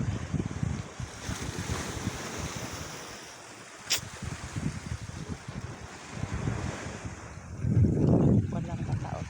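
Sea waves wash along the shore at San Jose, La Union, a steady windy roar with buffeting wind noise and one louder surge of surf near the end.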